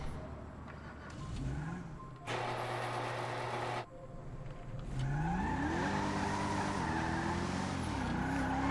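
A heavy, big-engined Rolls-Royce Phantom drives in GTA V with a steady engine drone that rises in pitch as it accelerates, broken by a brief loud burst partway through.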